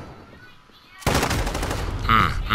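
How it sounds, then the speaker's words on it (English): Light machine gun fire in a video game, a sudden loud sustained burst of rapid shots that cuts in after a quiet start and keeps rattling to the end. "Just got mowed down with a dude with an LMG."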